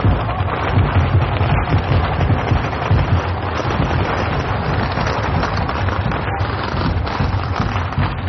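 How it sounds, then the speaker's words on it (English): Firecrackers crackle nonstop at a street procession in Tianshui, China, a dense, loud barrage of bursts with no pause, the crowd noise buried beneath the popping. "Firecrackers going off all over the place."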